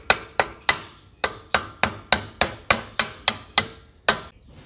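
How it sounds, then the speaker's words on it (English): Hammer blows driving a bracket onto a reel, about a dozen sharp, loud metallic-wooden strikes in a steady rhythm, each ringing briefly before the next. "I could use the hammer."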